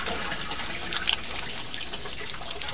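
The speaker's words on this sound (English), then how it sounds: "Kaya hugasan ko yung kamay ko." A tap runs while hands are washed with lily-scented hand soap, giving a soft, steady trickle and splash close by with a few brief louder drips, and no one talks.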